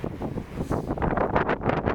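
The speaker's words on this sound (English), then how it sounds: "There's another gust." Strong wind gusts in a night snow storm on a lakefront beside a river roar and buffet the microphone, growing heavier and more turbulent in the second half.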